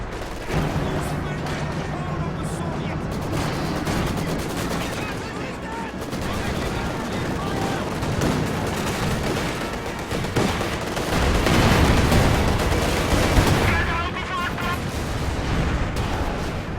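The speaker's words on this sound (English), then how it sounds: "T-34 firing on those Pios" Tank cannon and small-arms gunfire in a Company of Heroes 2 match, with a T-34 firing at pioneers; dense, continuous battle noise with bursts and booms throughout, mixed under commentary.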